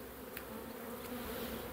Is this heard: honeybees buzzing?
yes